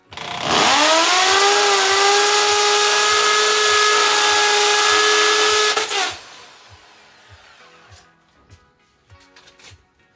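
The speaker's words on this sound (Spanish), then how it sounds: "Lo ponemos en el centro y taladramos." Power drill boring into a wall while mounting a TV, a loud steady whine for about five seconds that cuts off sharply, followed by quiet clicks and handling noise.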